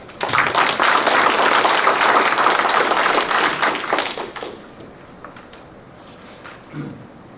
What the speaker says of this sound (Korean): 많은 박수로 환영해 주시기 바랍니다